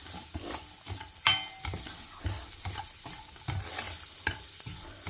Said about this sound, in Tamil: ஒரே ஒரு வெங்காயம் தான் பொடியாக கட் பண்ணியிருக்கேன். கொஞ்சம் நல்லா வதங்கட்டும்